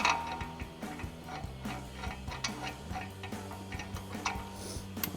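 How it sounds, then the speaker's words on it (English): A ratchet with a 21mm socket tightens the factory caliper bracket bolts on a 2009-2018 RAM 2500 during a brake caliper install, giving a close, steady run of mechanical clicking over a low background hum. "We'll run those back in with our 21mm socket on our ratchet."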